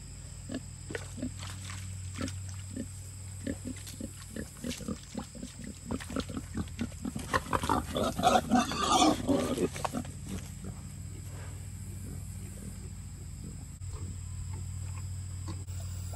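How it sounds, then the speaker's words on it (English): Two big pigs, 500 pounds together, grunt while wallowing. Their rhythmic, close grunts build into a louder, busier burst midway, then ease off to a low steady background hum. "the two of them together is 500 pounds of pig"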